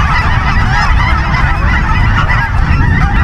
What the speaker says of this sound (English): these geese that look small on camera, but they're quite big in person. And they're super noisy.